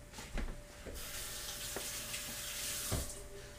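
Tap water running into a sink while radishes are washed: a steady hiss of flowing water with a few soft bumps and splashes of handling, fairly quiet and close.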